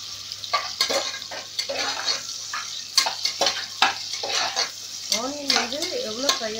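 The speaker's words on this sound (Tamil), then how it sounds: "நல்லா ப்ரௌனிஷ் ஆகிற வரைக்கும் நல்லா ஃப்ரை பண்ணுங்க." Sliced onions frying in oil for a biryani, a close sizzle with frequent scraping and clinking of a spoon against the pan, while a few faint whistly sounds rise near the end.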